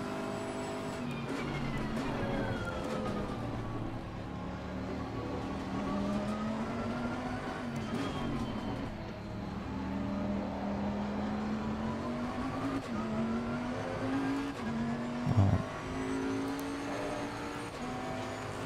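Race car engine in the Assetto Corsa Competizione racing game, droning steadily with rising and falling revs through short-shifted gear changes, loud and continuous, with a brief sharper burst near the end.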